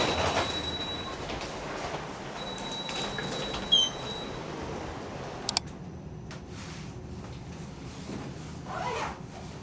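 An MRT train at a Taiwan airport station rumbles under a constant background of rolling noise, with a faint wheel squeal and a few brief clicks, heard from a platform at moderate distance.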